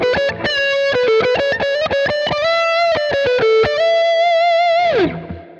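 Loud electric guitar on the neck pickup at full volume, with a thick, saturated tone, plays a quick run of sustained, singing notes, ending in a downward slide.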